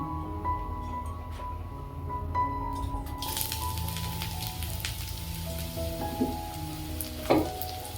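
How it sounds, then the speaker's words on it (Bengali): Steady sizzling of carrots frying in hot ghee, a sharp burst of crackle partway through, with occasional clinks near the end. "তো একে একে সবজিগুলো দিয়ে দেবো। ফার্স্টে গাজর দেবো আমি।"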